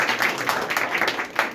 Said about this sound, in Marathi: त्या 3 जणांसाठी टाळ्या वाजल्या पाहिजे